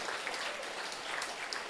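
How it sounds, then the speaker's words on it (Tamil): Steady, dense applause from an audience at a Tamil student debate event at Jaffna Hindu College, a continuous clatter of many hands filling the room, with no pause. "இந்த ஆறு பேருக்கு முதலில் உங்கள் கரகோஷங்களை நீங்கள் வழங்கியாக வேண்டும்"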